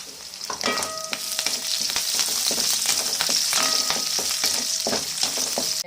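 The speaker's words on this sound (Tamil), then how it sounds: "இதில் வெள்ளைப்பூட்டை போட்டு கிண்டிக்கிறோம்." Garlic and curry leaves fry in hot oil for spiced puffed rice, a loud, continuous close sizzle broken by repeated metallic scrapes and clinks of stirring.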